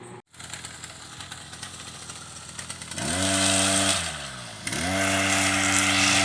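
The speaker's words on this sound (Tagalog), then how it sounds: "Nag-grass cutter." Grass cutter engine running while cutting grass, starting as a steady drone, then revving up loudly, dipping and surging again, close by with no talk.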